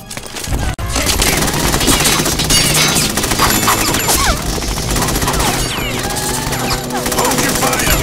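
Dense, nonstop bursts of automatic gunfire and crashing impacts fill a Metal Gear Solid 2 scene, loud and chaotic throughout, with voices faintly mixed in.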